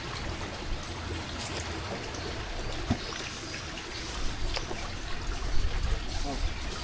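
A clear creek flows steadily nearby, its continuous trickling and babbling sitting fairly close and even in level. People talk faintly over it.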